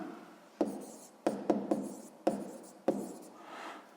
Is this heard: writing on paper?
yes